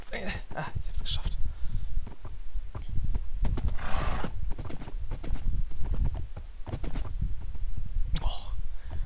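Hooves clip-clop in quick rhythm as a horse gallops in Minecraft, with a whinny rising midway, all running steadily beneath lively conversation.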